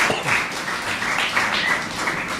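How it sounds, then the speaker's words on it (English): Audience applause at the 14th annual Help a Child Programme, a steady wash of many hands clapping throughout, moderately loud and even, with no voices over it. "Give them all a round of applause."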